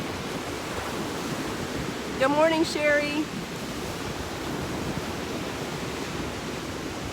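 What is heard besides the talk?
rough water waves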